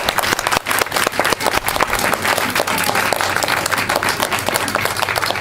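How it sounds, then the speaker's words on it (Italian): A crowd claps continuously and densely in loud, unbroken applause for a couple at an ancient-costume parade, staying steady throughout. "Un applauso a Ostiala e Gallenio."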